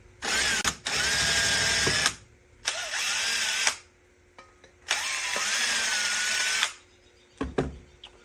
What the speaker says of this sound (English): now we're going to take our number 3 drill bit, and we can drill the hole for our barrel assembly